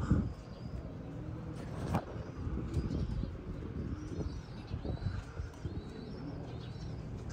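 Racing pigeons at a loft landing area coo and chirp steadily, with soft bird calls scattered over a constant low outdoor rumble and a faint passing car.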